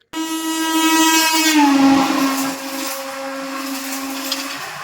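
Local train running on the Howrah to Puri line, a sustained horn-like tonal blast with strong harmonics at the start, then a steady rolling rumble that continues loudly throughout with no talking.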